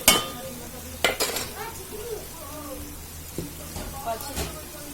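Ginger frying in a pan for a home-style chicken curry, a soft steady sizzle with a few sharp clanks of a spoon stirring against the pan, near and fairly quiet.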